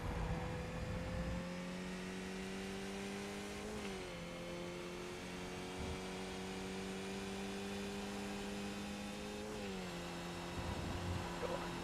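Race car engine revving in a racing video game at Donington, a steady loud drone holding pitch with brief dips around gear shifts, continuous and close with no talking.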